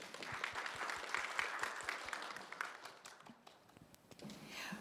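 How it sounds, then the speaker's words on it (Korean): A symposium audience at a Korean fair-trade compliance program event claps to welcome a presenter; scattered, fairly faint clapping with distinct individual claps that thins out and fades toward the end. "여러분 박수 부탁드리겠습니다"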